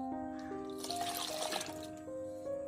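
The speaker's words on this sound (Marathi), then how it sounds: "बेताचं पाणी घालायचं" Water is poured into a thick fish curry made with baby kingfish: a faint, brief trickle and splash in the middle of a quiet kitchen, over a steady low hum.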